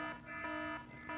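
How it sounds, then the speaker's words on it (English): An alarm beeps in repeated bursts, four loud tonal pulses in quick succession with brief gaps between them, close and alone with no talking. "No, Brandon, that was me. My alarm went off."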